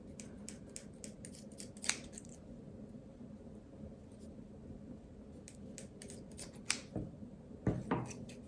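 Scissors snipping through old T-shirt fabric, close up, with a series of sharp clicking cuts at uneven intervals over a steady low background hum.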